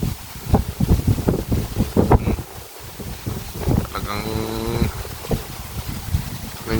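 Strong wind roars and buffets the microphone throughout, with gusty rumbles rising and falling; a voice speaks briefly early on.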